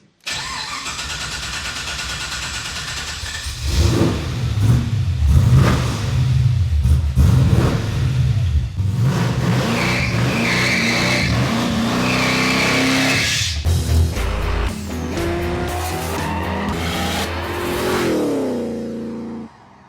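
A V8 engine with twin carburettors in a rat-rod FJ45 Landcruiser ute cranks and fires, then settles into a loud, close, rumbling idle with a few throaty revs before dropping back and shutting off, with no voices.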